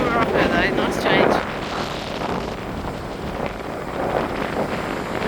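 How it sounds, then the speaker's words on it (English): Strong wind on a beach in Tarifa, Spain, a loud continuous buffeting roar across the microphone, with faint voices in the background. "Tarifa, the windiest city in Europe."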